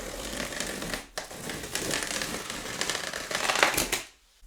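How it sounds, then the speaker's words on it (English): A blade slices through a cardboard box in close crunching, scraping strokes, with a brief pause after a second and a quiet moment at the end. "I'm gonna just cut that open."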